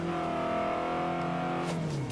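Honda S2000 convertible revving in the Forza Horizon racing game, a sustained high engine note holding steady then dropping slightly, loud and close with no talk over it.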